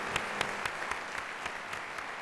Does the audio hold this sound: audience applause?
yes